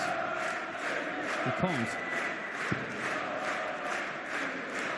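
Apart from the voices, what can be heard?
darts championship crowd cheering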